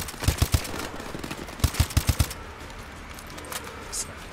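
Rapid bursts of automatic gunfire in the PC shooter Call of Duty: Advanced Warfare, two short volleys of sharp cracks followed by quieter scattered shots, with a voice talking faintly beneath.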